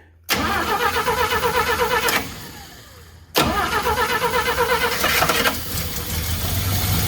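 A car engine cranks after carburetor work, catching briefly twice in loud rhythmic bursts of cranking and rough running, dropping off each time, before settling into a lower running murmur at the end, close up with no talking.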